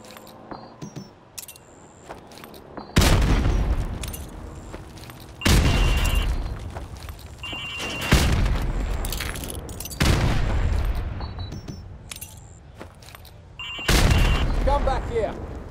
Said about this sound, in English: Now throw a grenade into windows 2, 3, and 4.